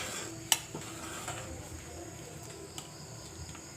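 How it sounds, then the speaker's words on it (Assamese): Milk pasta is stirred in a pot on the stove with a spoon, giving soft scraping and an occasional light clink against the pot over a quiet, steady simmer. "এতিয়া অলপ সময় লৰাই থাকিম,"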